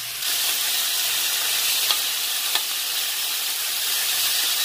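Beef for birria sears in a hot pan with a steady, close sizzle, broken by a couple of small sharp pops.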